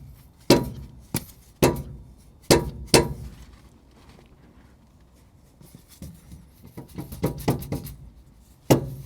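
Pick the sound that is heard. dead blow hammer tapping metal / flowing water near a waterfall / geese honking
dead blow hammer tapping metal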